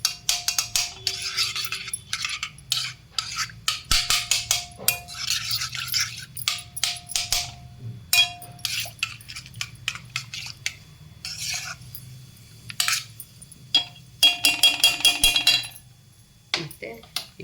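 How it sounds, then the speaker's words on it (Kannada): Mustard seeds tossed into hot oil in a pan while making turmeric root pickle give sharp, scattered crackling pops and spatters. Metal utensil clinks cut in, and a person talks quietly underneath. "ಎಣ್ಣೆ ಸ್ವಲ್ಪ ಕಾಯಕ್ಕೆ ಇಟ್ಬಿಟ್ಟು ಅದಕ್ಕೊಂದು 4 ಕಾಳು ಸಾಸಿವೆ ಹಾಕ್ತಾಯಿದ್ದೀನಿ."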